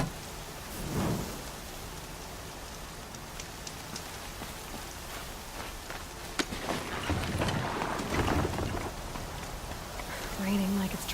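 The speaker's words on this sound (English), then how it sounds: "Raining like it's trying to wash everything away." Steady rain falls in the video game Horizon Zero Dawn, a continuous hiss with a low rumble of thunder, while voices talk over it at moderate volume.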